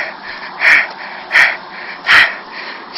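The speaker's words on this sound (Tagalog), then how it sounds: "grabe ang kanyang hingal." A hiker on a mountain trail in Mountain Province pants heavily after the uphill climb, with three strong, evenly spaced breaths heard close up against a soft background hiss.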